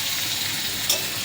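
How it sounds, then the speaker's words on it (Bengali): Pointed gourd (potol) frying lightly in a pan, a steady close hiss of oil that runs unbroken for a moment, with one brief brighter crackle partway through and no talking. "পটলগুলো হালকা করে ভেজে নেব।"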